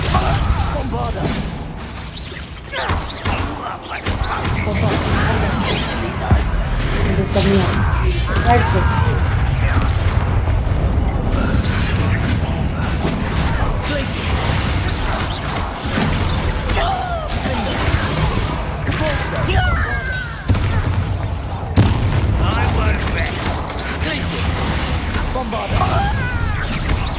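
Spell impacts from Hogwarts Legacy, Bombarda among them, land as a run of loud booms, crashes and shattering bursts over a dense game soundscape, with a voice talking throughout the stretch.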